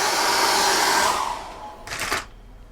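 A hair dryer blows steadily on wet acrylic paint, a close, loud whoosh that cuts out, then a brief second burst before it stops.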